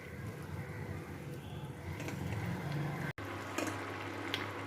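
Vegetables and bori boiling in a covered pot, a steady low bubbling simmer with soft gurgles running throughout, broken by a brief dropout near the end, with no one talking.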